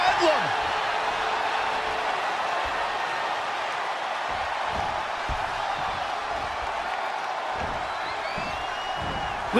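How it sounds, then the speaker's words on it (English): WWE NXT arena crowd in a steady, broad roar throughout, with scattered thuds from the ring, beneath excited commentary. "Look at this crowd! It's insanity in here! Bedlam!"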